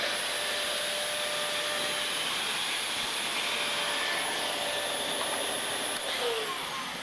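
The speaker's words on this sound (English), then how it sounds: "It's the bagless compact, multi-floor ball cylinder vacuum, and the 8 accessories as well." A Dyson DC38 bagless multi-floor ball cylinder vacuum cleaner runs indoors with a steady, loud high-pitched whine and airy rush, continuous throughout with no voices.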